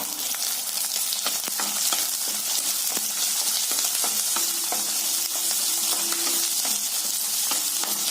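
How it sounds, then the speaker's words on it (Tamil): Four dry red chillies with coriander seeds, cumin and chana dal dry-roasting in a pan for tomato kulambu, giving a steady scratchy rustle with frequent small clicks and taps as they are stirred, close and unbroken, no voices. "4 வரமிளகாங்க, கொத்தமல்லி, சீரகம், கடலம்பருப்பு, இதையெல்லாம் என்ன செய்யறீங்கன்னா நல்லா பொன்னிறமா வறுத்துக்கிறீங்க"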